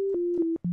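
Polyphonic synthesizer sine wave bass, a pure steady tone stepping between a few pitches with brief clicks at each change and a short gap before the final lower note, played alone.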